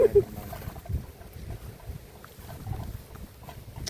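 Wind buffeting the microphone in a fenced vegetable garden, uneven low rumbling gusts rising and falling with no voices.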